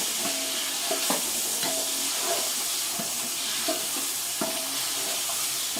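A kilo of meat fries in a pot for chicken biryani with a constant loud sizzling hiss and occasional spoon clinks against the pot.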